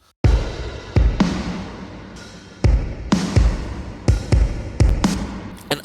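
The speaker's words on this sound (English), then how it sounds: "And I'm also using some open hats and crashes." Open hi-hats and crash cymbals from a sample pack splash in a repeating pattern of bright, washy hits over thumping low beats, each one ringing out before the next, loud and without talk.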